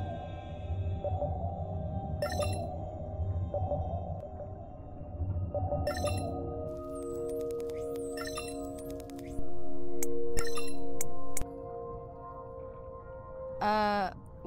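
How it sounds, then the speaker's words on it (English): Underwater acoustic modem in the game Beyond Blue sends data as eerie tonal pings and warbling electronic chirps, with a sustained tone and a rising sweep over a low ocean rumble. "I've deployed acoustic modems to transmit from other sensors."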